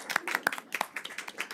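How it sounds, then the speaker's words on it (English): Sparse clapping from a small audience at a town committee meeting, a handful of distinct hand claps in an uneven rhythm, fairly close and not building into full applause. "they deserve a round of applause"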